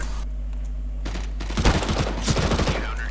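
Gunfire in the video game Counter-Strike: Global Offensive cracks out in a rapid series of loud shots, bunched in quick bursts over a steady low background hum.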